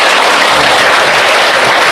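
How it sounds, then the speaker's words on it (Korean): A church congregation claps together to give glory to God, a loud, dense and continuous wash of many hands with no voice over it. "하나님께 영광의 박수 돌려야면"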